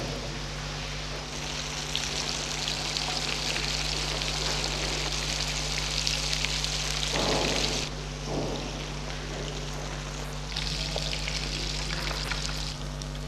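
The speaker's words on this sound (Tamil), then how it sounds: "இதை நல்லா பொன் முருளாக நல்லா குக் ஆகிற அளவுக்கு ஃப்ரை பண்ணிடுங்க" Fish sizzles steadily in hot oil in a pan as it fries until golden brown, a continuous loud crackling hiss with a brief dip partway through and no voices.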